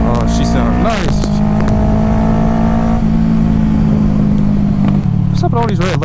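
Engine of a motorcycle being ridden on the road revs loudly and continuously, with rising and falling pitch sweeps as the throttle opens, heard up close with heavy wind noise and no pause.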